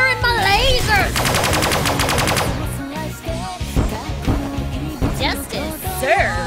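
Rapid repeated laser weapon fire from the space strategy game Sunrider pulses in a quick rhythmic burst, layered over game music and voice dialogue.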